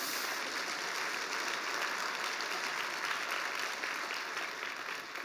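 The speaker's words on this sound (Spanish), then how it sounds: "Le damos un aplauso al Señor." A church congregation applauds during a sermon, a dense, steady wash of clapping from many hands that holds evenly and thins slightly at the end, with no clear voices.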